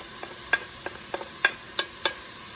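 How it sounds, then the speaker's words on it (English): Garlic and black pepper fry in a pan with a steady fine sizzle, punctuated by several sharp clicks and scrapes of stirring, close and alone without speech. "I'm going to add all the garlic and some of the black pepper."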